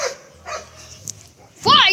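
A dog gives a loud, sharp bark near the end while confronting a cat, after quieter sounds and faint Portuguese-speaking voices.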